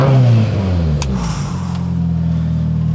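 A Mitsubishi Evo 8 engine revs loud and close, a strong rising note early that settles into a steady, sustained drone for the rest of the moment.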